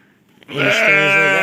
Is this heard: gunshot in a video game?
no